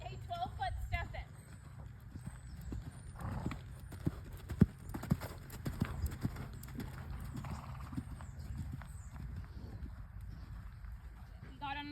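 Horse cantering four strides over ground poles set about twelve feet apart, hooves clip-clopping in a steady rolling rhythm at moderate distance, with faint breathing and background noise throughout.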